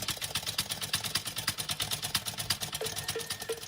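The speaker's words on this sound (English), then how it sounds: "That's the sound of a Harley Davidson motorcycle from 1911." A 1911 Harley-Davidson single-cylinder belt-drive motorcycle engine idles with a fast, regular thumping pulse and mechanical clatter, steady and close throughout.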